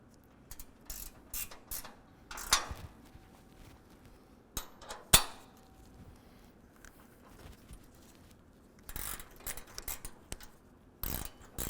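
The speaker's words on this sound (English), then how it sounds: "Actually, ratcheting wrench fits in there well as well." A ratcheting wrench clicking on 13 mm bolts while a rack is installed on a 2024 Ford F-150: sparse, quiet bursts of sharp ratchet clicks and metallic taps separated by pauses, close by and without talk.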